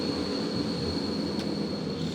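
A local passenger train runs along a railway line in Montenegro. It gives a steady, close rumble with a thin sustained high whine throughout and a brief sharp squeal or clack near the end, and no one speaks.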